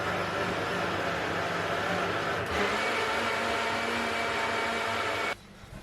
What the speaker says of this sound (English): now it's time to shake that shake, or to mix that shake